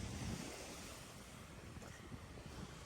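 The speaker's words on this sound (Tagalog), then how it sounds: "nakikita nyo yung alon. Talagang napakalakas ang pwersa." Sea waves at Manila Bay, a steady broad wash of surf with wind rumbling against the microphone, continuous and fairly close, with no voices.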